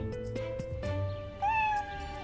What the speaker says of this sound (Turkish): Gel kedi güzel kedi. Gel pisi pisi.